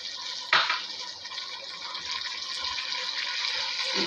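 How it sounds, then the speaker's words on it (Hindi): Water is poured into a pan of tomatoes and spices while cooking aloo palak. It lands as a sudden splash, then settles into a steady, close hissing wash, with no talking. "पहले मैंने थोड़ा सा पानी शामिल करना है ताकि मसाले हमारे जले ना।"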